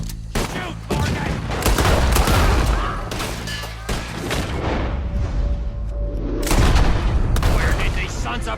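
Repeated gunfire in a Red Dead Redemption 2 shootout, loud and dense shots in rapid bursts with heavy booming impacts, mixed with shouted voices throughout.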